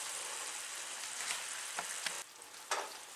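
Sugar syrup for patisa (sohan papdi) cooks on the stove with a steady, close bubbling hiss. A few sharper scraping bursts near the end suggest stirring, and no one speaks.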